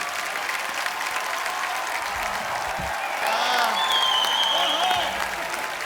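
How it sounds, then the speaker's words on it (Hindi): A studio audience at a comedy talk show breaks into loud, sustained applause and cheering welcoming celebrity guests, dense clapping throughout with music and a voice briefly layered over it. "आप सबकी जोरदार तालियों के बीच प्लीज वेलकम"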